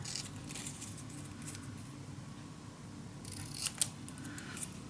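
Scissors cutting patterned paper for a mini album and junk journal, with quiet, close snips and a few sharper clicks of the blades near the end, alone and without talk.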